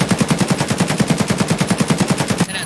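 Sustained automatic fire from an AKM rifle with a foregrip in the video game Escape from Tarkov, a fast, steady stream of about twenty loud, evenly spaced shots that stops abruptly, with no talking.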